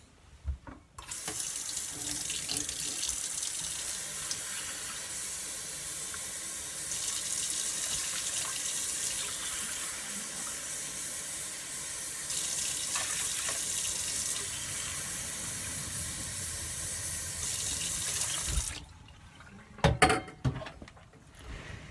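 Water runs steadily from a tap into a sink for a long stretch, then stops, followed by a few clicks and clatters.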